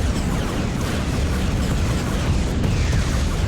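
Heavy, rumbling explosions pound continuously as bombers strike turrets in an Empire at War space battle, a dense low roar with scattered booms and no pauses.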